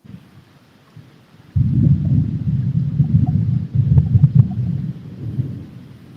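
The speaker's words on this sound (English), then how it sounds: "Can you hear that thunder?" Thunder rumbles low and heavy during a rainstorm, a long rolling peal that swells suddenly and carries on for several seconds over steady rain, with no talking.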